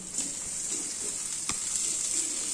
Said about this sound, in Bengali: আলুটা ভাজি করবো, আলুটা দিয়ে দিচ্ছি।